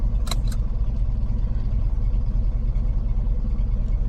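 An old car engine running after a cold start, with a steady, loud, low rumble close by throughout. Two brief metallic jingles come near the start, and no one speaks.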